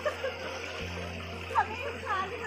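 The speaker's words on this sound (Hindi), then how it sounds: "पानी वगैरह यहाँ पे गिर रहे है इस तरीके से" Steady, hissing water falling and splashing beside a muddy monsoon trail near Korigad Fort, a continuous moderate wash with a voice talking over it.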